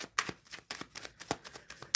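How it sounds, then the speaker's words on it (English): Tarot cards are shuffled by hand in close, soft, irregular riffles and flicks, a quiet rapid papery pattering. "I am shuffling for the overall energy for this general reading for the collective"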